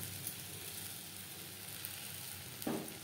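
Mango pieces melting with jaggery on a low gas flame for mango pickle, a faint, steady soft sizzle with a brief clink near the end.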